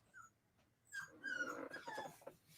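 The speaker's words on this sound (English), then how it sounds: "I've got a dog that's deciding to whine and cry" A dog whines and whimpers nearby, with a short high yelp followed by a drawn-out, wavering cry and softer whimpers trailing off, quiet overall.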